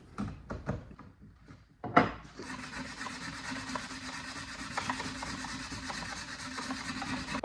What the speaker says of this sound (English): With chiseling and sanding for the finishing touch.